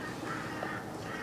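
An Indian ringneck parakeet gives a harsh, raspy squawk, close and fairly loud, running continuously through the short moment with no speech.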